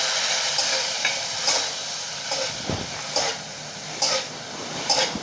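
Spiced green chillies are stirred in a hot pan with lemon juice, a continuous frying hiss broken by several sharp scrapes and clinks of the spoon at irregular intervals.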